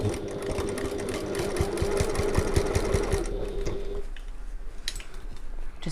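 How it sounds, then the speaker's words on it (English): A sewing machine runs close and steady, top stitching around the top of a bag at an eighth-inch seam allowance, then slows and stops near the end, no voices. "Just sewing all the way around the top."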